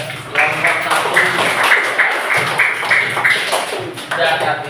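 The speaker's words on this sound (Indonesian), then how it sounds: "tepuk tangan kepada kelompok" Classroom of students clapping for a group during an interactive lesson, a brisk burst of many hands with some voices and shuffling mixed in, fairly loud and close.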